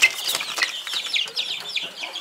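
Young roosters and hens in a poultry yard give a flurry of high, quick chirps and peeps, close and busy, with no speech over them.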